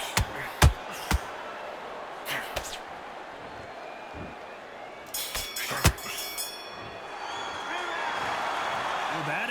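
Boxing arena crowd at a title fight reacting to a draw verdict, a broad sustained murmur and rumble of disapproval with scattered louder shouts and bangs, commentators talking over it.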